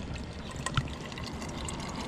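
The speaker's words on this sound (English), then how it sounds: "some Dasani water in with the tablets" Dasani bottled water poured over electrolyte tablets in a container, a soft steady trickle throughout with a brief clink partway through.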